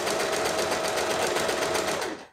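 Sewing machine running a zigzag stitch in reverse on stretchy fabric, a steady, loud, rapid mechanical whir with a fast regular needle rhythm that continues unbroken for a couple of seconds, then stops.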